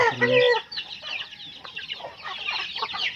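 Farm chickens cluck continuously at close range, busy and overlapping, with a sharper, louder call at the start.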